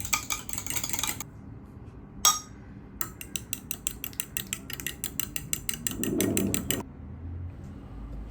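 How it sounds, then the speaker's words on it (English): Egg roll ingredients with diced carrot being mixed in a bowl, heard as a rapid run of regular clicking, scraping strokes, close up with no talking. "Mixing everything until nicely combined."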